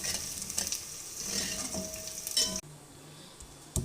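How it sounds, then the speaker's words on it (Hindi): Chopped onion sizzles steadily in half a cup of hot oil, a continuous close frying hiss broken by stirring scrapes, with a sudden drop in level near the end. "मैंने व्यूअर्स हाफ कप ऑयल ली है और उसमें एक प्याज मैंने काट के तो डाल दी है। अब मैं इसे गोल्डन ब्राउन करूँगी।"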